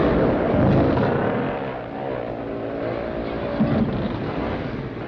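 Scrambling motorcycles race up a dirt hill with extra-grip tires before a crowd of spectators, engines roaring loud and steady as they climb and strain over the top.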